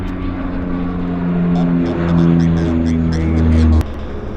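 A light passenger plane takes off at an airport, its steady droning engine holding close and loud with a slight rise in pitch, cutting off abruptly near the end; faint talk sits underneath.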